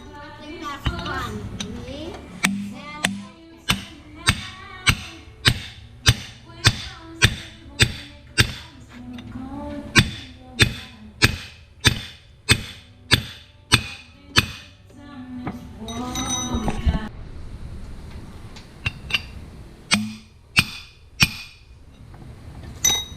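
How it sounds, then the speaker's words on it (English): A new wheel stud is hammered into a Jeep Wrangler JK wheel spacer with a long series of sharp, evenly spaced metallic blows. A short pause breaks the run midway, and low background noise sits underneath. "since I don't have my press set up, I'm gonna pound away"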